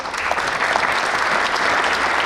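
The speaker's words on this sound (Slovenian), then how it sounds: "Še enkrat en velik aplavz" A large audience gives a steady, dense round of applause at a Slovenian Armed Forces sports award ceremony, continuous and even throughout the short stretch.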